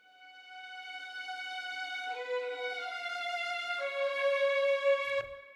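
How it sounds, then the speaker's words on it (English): Sustained orchestral strings swell in layered harmonies, shifting chords smoothly with a roomy, distant blend, then cut off abruptly with a soft low thump. "that's kind of how I'm getting the sort of string sound"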